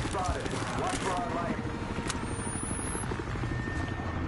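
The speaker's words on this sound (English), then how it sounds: "Helicopter, you go away!" A helicopter in the video game Battlefield Hardline drones with a steady, loud rotor chop and engine rumble, while a person talks over it.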